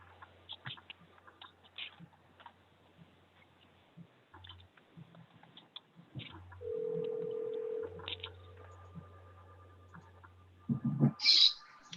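A mobile phone in a car dialing into a meeting with one-tap mobile, with quiet handling noise and a sustained tone midway followed by a short burst of bright beeps near the end.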